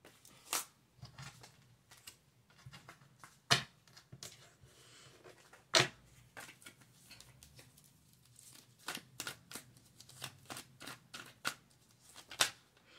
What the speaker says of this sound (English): Let me pick these cards up now.